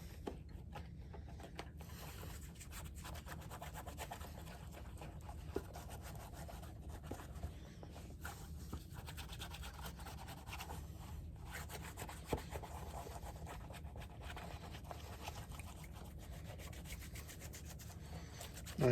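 A product is rubbed by hand into Polo Ralph Lauren alligator leather shoes, a soft, continuous, close scuffing and brushing with small irregular clicks, faint and steady throughout.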